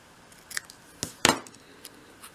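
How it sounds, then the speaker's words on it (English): Scissors cutting card for a 1/12th scale model shop project, a few sharp close snips with a louder double crunch in the middle, alone. "Keep hold of it, cut your angles,"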